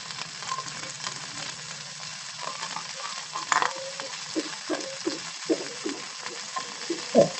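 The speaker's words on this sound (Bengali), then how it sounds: "ফুলকপিগুলো প্রথমে আমি ভেজে নিচ্ছি।" Cauliflower pieces fried with turmeric in a pan, a soft continuous sizzle broken by repeated spatula scrapes and taps, close and alone.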